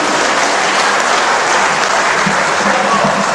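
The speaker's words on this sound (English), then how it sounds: "Another big round of applause for Dr. Ampabeng." A crowd at a regional town hall meeting claps loudly and steadily, dense applause filling the room without pause.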